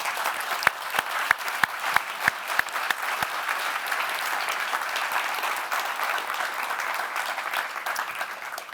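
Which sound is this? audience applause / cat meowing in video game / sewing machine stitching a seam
audience applause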